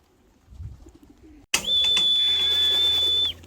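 Pigeons coo at a rooftop loft. Faint low sounds come first, then an abrupt, louder, steady stretch holds for nearly two seconds before cutting off.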